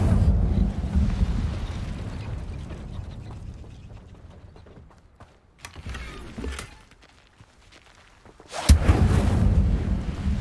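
Incendio fire spell cast in Hogwarts Legacy on Xbox Series S, giving rumbling whooshes in the opening seconds, a short flare in the middle and a louder fiery burst near the end, with quieter gaps between.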